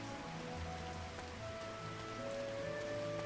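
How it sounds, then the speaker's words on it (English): Rain falls in the video game Kitaria Fables, a soft, steady patter of drops on a surface, quiet and continuous with faint tonal game sounds beneath. "It's raining."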